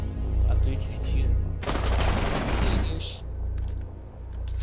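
Bursts of gunfire in a Rainbow Six Siege match, a dense volley of shots in the middle of the clip over steady game sound and background noise.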